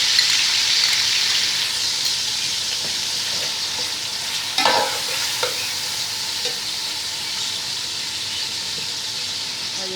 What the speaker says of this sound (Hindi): ये टमाटर जो हमने 6 काटे थे ये हम डाल देंगे।